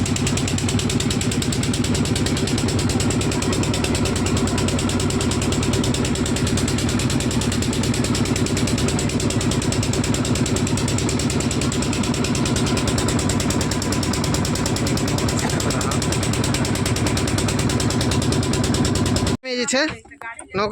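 Motor boat engine running on a river, a loud continuous mechanical chugging drone heard from on board, with a person talking over it, cutting off abruptly near the end.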